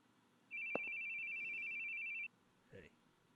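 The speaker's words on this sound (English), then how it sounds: "I hate hearing phones ring." A phone rings with a single sustained electronic tone lasting nearly two seconds, loud and close, then cuts off, followed by a brief voice.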